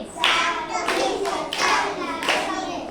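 Children clap in unison during an action song, four crisp group claps spaced evenly apart, with faint young voices chattering between them.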